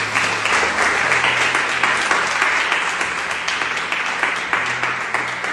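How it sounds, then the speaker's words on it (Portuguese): Church congregation applauding together during a worship service, a loud, continuous wash of many hands clapping that holds steady from start to finish. "Aplauda o Senhor."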